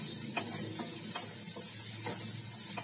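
Onions fry gently in a pan, a faint steady sizzle with occasional soft stirring scrapes.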